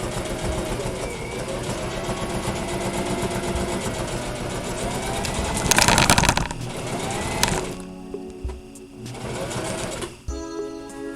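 A sewing machine stitches the second edge of a vent on a boat cover being repaired after hurricane damage, a steady mechanical whir running loud and continuous with a brief pause near the end.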